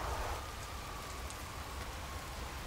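Steady rain falls in a video game, a soft even hiss of drops on surfaces that holds quietly for a few seconds with no voices over it.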